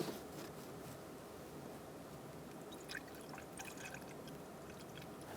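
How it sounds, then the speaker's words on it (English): Coolant poured into the radiator of a 2012–2018 Ford Focus 2.0L, a faint continuous liquid pour and trickle with light dripping, close by and without talk. "Set it aside and begin to fill up your coolant."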